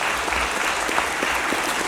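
Sustained applause from an audience at a tribute ceremony, honoring the family of Sigmaringa Seixas, steady dense clapping throughout without pause.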